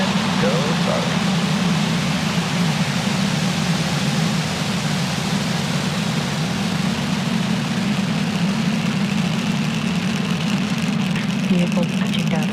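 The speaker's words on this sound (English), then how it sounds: "Ignition. Engines full power. And liftoff." A SpaceX Falcon rocket lifting off on a Starlink mission from Florida's Space Coast, its engines making a steady, heavy low roar and rumble that lasts throughout without a break.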